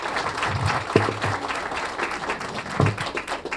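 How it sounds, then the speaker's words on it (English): Audience applause at an affordable housing forum, a steady dense wash of clapping that holds at an even level for a few seconds, with a couple of slightly louder claps standing out. "Please join me in giving all of the partners who joined us today a round of applause."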